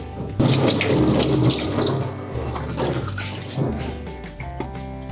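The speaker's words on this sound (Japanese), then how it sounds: "で内臓出し終わったら水でしっかりと流していきます。" A kitchen tap runs loudly as water rinses a gutted horse mackerel, a close, steady gush with splashing shifts as the fish is moved under the stream, no talking.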